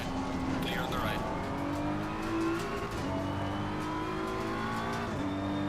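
A GT race car in Assetto Corsa Competizione roars past at speed, its engine note sweeping up and down steadily and loud over a dense, continuous racing drone, while someone speaks over it.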